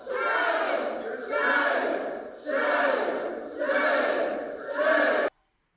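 A political crowd booing a senator and chanting shame, heard as several loud sustained waves of massed voices that rise and fall in a steady rhythm, then cut off abruptly.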